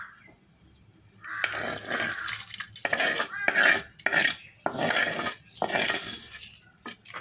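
Fried tempering tipped into boiled papaya dal in a pot, bursting into a loud spitting sizzle in choppy bursts, with clinks of metal utensils close by.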